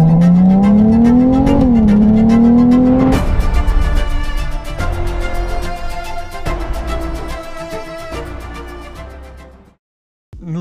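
Ferrari 296 GTB Assetto Fiorano starting up: a rising whir climbs and dips, then the engine catches with a loud, dense roar that settles into a steady, buzzy idle before cutting off near the end.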